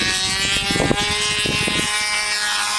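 A small glow-plug engine on an F2B control-line aerobatic model aircraft screams at full throttle on takeoff, a steady high buzz with rich harmonics under rumbling wind buffeting.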